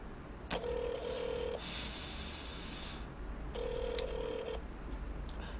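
A telephone ringback tone sounds in two long bursts separated by a pause, repeating with nobody picking up, over a steady background hiss.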